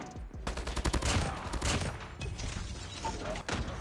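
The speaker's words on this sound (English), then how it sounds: "we'll put down the sentry gun again" Automatic sentry gun fire in Call of Duty Mobile, rapid bursts of gunfire rattling across a busy battle with overlapping shots.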